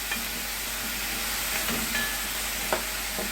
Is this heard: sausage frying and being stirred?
yes